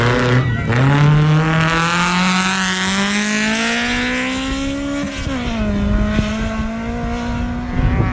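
A BMW rally car driven by Jimmy Franco in a national rally championship stage screams toward the listener at high revs, its loud engine note holding steady, rising and dipping slightly as it shifts, close and dominant throughout.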